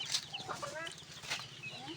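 A country hen clucking softly among her chicks, whose thin high peeps overlap the low, rhythmic clucks in a quiet, close outdoor scene.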